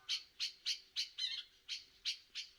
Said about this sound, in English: That bird making that noise is called a katlachter.